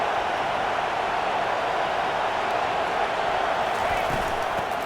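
A fired-up stadium crowd at a Missouri Tigers football game, a loud, continuous roar of massed voices that holds steady throughout, with a few faint claps near the end.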